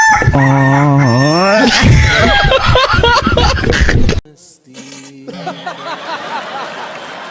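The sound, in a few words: rooster crowing sound effect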